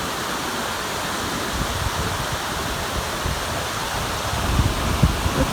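Biddlecombe Falls on the Jatbula Trail in Nitmiluk National Park, a waterfall giving a steady, dense rushing roar with no pauses, loud and full, heard alone without voices.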